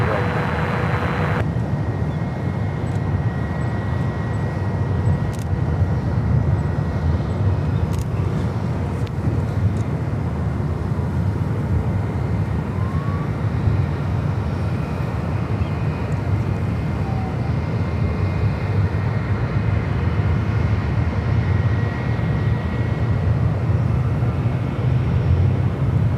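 A heavy Airbus airliner on short final to runway 28 right at San Francisco airport gives a loud, steady low jet roar that holds throughout, near and continuous, with no voices.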